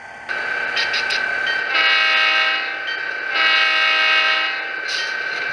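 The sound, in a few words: model Genesis SD45 locomotive horn from scale sound speakers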